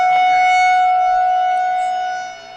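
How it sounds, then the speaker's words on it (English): A tornado civil defense siren wails steadily at a baseball game, loud and sustained, dipping slightly near the end, with no talk over it. "So you hear that siren going off?"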